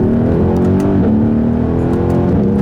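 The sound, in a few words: Mercedes-AMG GLC63 engine accelerating with quick gear upshifts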